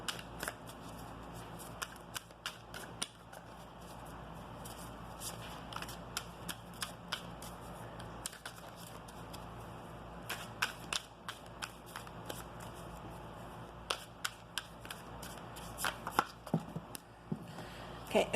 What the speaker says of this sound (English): I'm going to grab another deck for you. That one's just not wanting to shuffle right.